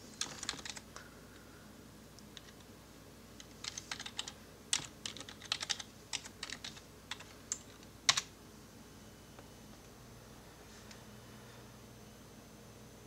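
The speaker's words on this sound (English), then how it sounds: "Now let's try to use the keyboard." Fast, irregular key clatter from a Dell computer keyboard plugged into an HP TouchPad tablet over USB, with quiet keystrokes in clusters over a faint hiss, some taps sharper than others, and no voices.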